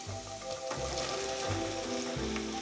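Pumpkin pieces frying in a pan with golden-browned onions, a steady sizzle and crackle with a low hum underneath and occasional soft clinks, heard up close without talk.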